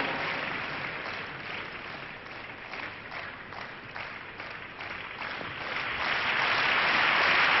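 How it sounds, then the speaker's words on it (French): A tennis crowd at a Davis Cup match applauds steadily, a dense wash of clapping that swells louder toward the end. "le public l'applaudit"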